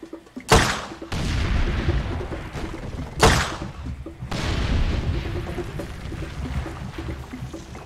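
Explosives detonating in the video game Far Cry 2, two sharp loud blasts a few seconds apart, each followed by a long rumbling, crackling tail of debris and fire.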